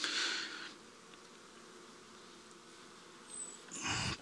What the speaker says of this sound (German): Gucken, ob da junge Bienen drauf sind.